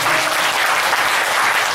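An audience at a 2017 party leadership debate breaks into dense, loud applause, steady and sustained from start to finish with no voices over it.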